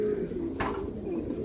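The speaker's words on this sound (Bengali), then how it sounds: "মাশাআল্লাহ, এখানে 2 জোড়া বাগদাদি হুমা আছে" Baghdadi Huma pigeons cooing in a loft kept for sale, a low steady murmur of soft coos running throughout with a brief brighter flutter or rustle midway, no talk.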